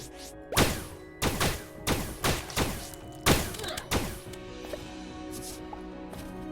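Grenade launcher from Starbound firing a rapid series of heavy thumping blasts, about eight in irregular quick succession, each punchy with a brief rumble, over a steady game background hum that fades toward the end.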